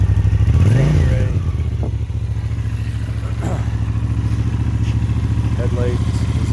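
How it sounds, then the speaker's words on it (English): A 1983 Honda GL650 motorcycle idles steadily at close range with a low, even engine drone, briefly rising and falling at the start, while someone talks over it. "it takes a couple minutes for them to warm up good before they'll sit and idle"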